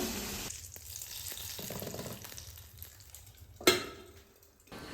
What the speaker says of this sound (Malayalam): ഇനി അപ്പുറത്ത് അടുപ്പിലൊരു ചട്ടി വെച്ചിട്ട് കടുക്, ഉണക്കമുളക്, പിന്നെ കറിവേപ്പില അതെല്ലാം ഇട്ടിട്ട് താളിച്ചിട്ട് ഒഴിക്കുക